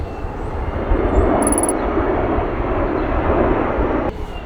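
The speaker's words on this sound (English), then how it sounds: "That's like those big military planes that like carry tanks overseas." A large military transport plane flies overhead, its deep engine roar steady and loud for several seconds, with a brief high tone near the start.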